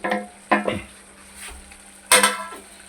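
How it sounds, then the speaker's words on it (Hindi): A spoon scrapes and clanks against a pan as fried tomato, capsicum, onion and potato chips are stirred into chicken jalfrezi, with three sharp metallic knocks and a faint sizzle between them. "अब हमने इसको सिर्फ मिक्स करना है, पकाना नहीं है ज़्यादा, सिर्फ मिक्स करना है इसके अंदर"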